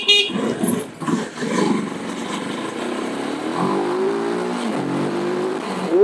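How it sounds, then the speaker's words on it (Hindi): A motorcycle with a changed exhaust starts up and runs, its engine rumbling and revving up and down outdoors at close range amid some background street noise. "तो बाइक जो है स्टार्ट कर लेते हैं अपनी।"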